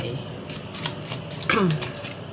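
Tarot cards shuffled by hand in a quick riffling burst, close and fairly loud, while someone speaks over the rustle.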